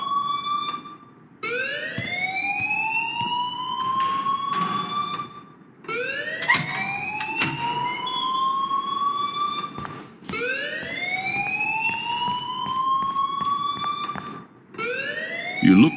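A loud, rising-and-falling electronic alarm wails continuously in the game Life Is Strange, its sweeping tone repeating in long cycles with brief dips between them and no voices over it.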